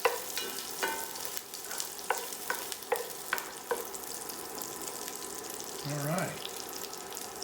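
Onions and garlic fry in a pan with a steady sizzle, punctuated by sharp scraping stirs of a utensil against the pan; someone speaks briefly.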